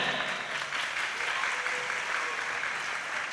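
Audience applause at a logo competition launch event at Pondok Pesantren Sidogiri, a dense, steady burst of clapping from a crowd filling the whole moment with no pauses.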